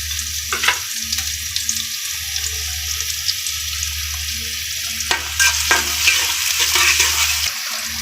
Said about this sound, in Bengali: একটু তেল দেই পেঁয়াজ কুচি তিনটা কাঁচামরিচ